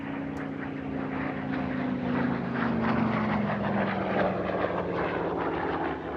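A Yak-3U, a radial-engined conversion of a Yak-11, drones past at the Air Legend airshow in Villaroche, its loud propeller and engine note sliding gradually downward as it passes close by.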